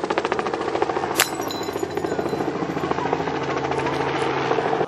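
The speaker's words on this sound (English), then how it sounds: "A helicopter hovered above to provide backup to the ranks on the ground." A helicopter hovers close overhead, its rotor chopping in a rapid, steady pulse that stays loud and unbroken throughout, with a brief sharp hiss near the start.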